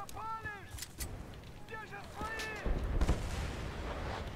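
Gunfire from the Battlefield Bad Company 2 video game, with sharp shots and booms scattered through the clip, layered under voices with a broadband rumble building toward the end.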